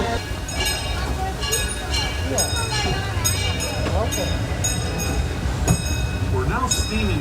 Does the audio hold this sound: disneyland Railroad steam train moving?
yes